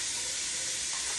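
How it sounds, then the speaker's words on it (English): Shallots and vegetables sautéing over low heat in a soup pot, a steady, even hiss and sizzle that holds constant and close throughout, with no voices. "And we want to saute these until they're nice golden brown."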